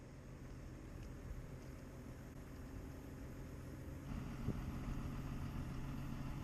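A sailboat's engine hums and idles steadily at low volume just after launch into the water, a continuous rumble with a slight shift partway through and no voices.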